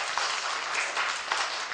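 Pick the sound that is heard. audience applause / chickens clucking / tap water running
audience applause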